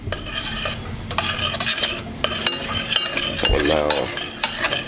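Butter melts in a pan with a soft sizzle while a utensil stirs and scrapes it in quick, close strokes, and a voice briefly speaks over it.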